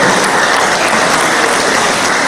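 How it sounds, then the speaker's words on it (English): An audience at an academic physical sciences conference applauds steadily, dense clapping with no pauses, loud and close throughout. "Can you please give him a round of applause?"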